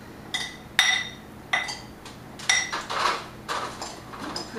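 Garbanzo beans tossed with smoked chipotle cayenne pepper and spices in a bowl give a series of irregular clinks and rattles against the dish, several distinct knocks spaced through the moment, close and fairly quiet with no talking.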